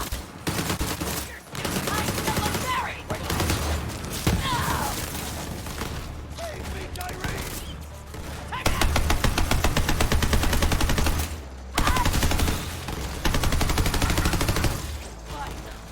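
Rapid automatic gunfire from a weapon in the video game Borderlands 3, sustained loud bursts in several long volleys separated by short pauses, with someone talking between them.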